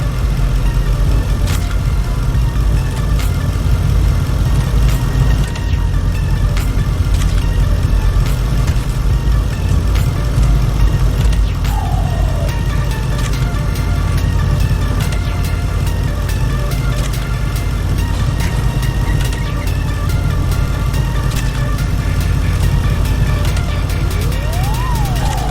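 An off-road car in Need for Speed Heat, fitted with a forged 5-liter V8 engine swap and rally chassis and drivetrain setups, idles with a steady, loud, unbroken engine drone that runs throughout without voices.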